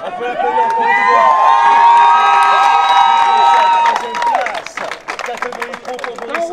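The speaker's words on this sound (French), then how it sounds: "On peut l'applaudir encore une fois." Crowd at a motocross race podium cheering and applauding the third-place pro rider, loud and close, with whoops and clapping under an announcer's sustained voice, then scattered claps and chatter as it fades.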